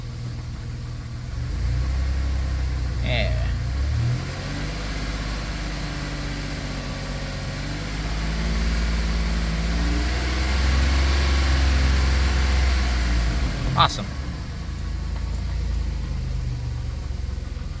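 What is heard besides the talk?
1990 Dodge Grand Caravan engine idling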